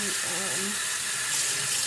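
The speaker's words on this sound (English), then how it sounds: "you want to make sure you get the water through all of the tracks" Water runs steadily from a tap while a U-Part wig is rinsed through its tracks. A faint voice briefly sounds under the continuous close hiss of flowing water.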